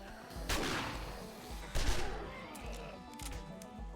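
Gunfire in the 7 Days To Die video game as zombies are shot during a blood moon horde night, with two heavy blasts standing out over a steady low rumble and scattered game noise.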